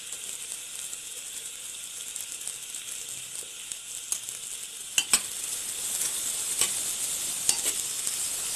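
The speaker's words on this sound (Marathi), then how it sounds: "आता आपला कांदा लसूण सगळं व्यवस्थित परतून झालेलं आहे." Onion and garlic with asafoetida sauté in a pan for instant mutton vadas, a soft continuous sizzle with occasional sharp clicks of a spatula stirring, growing a bit louder toward the end.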